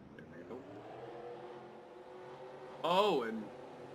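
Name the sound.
race cars accelerating at race start, from a racing video game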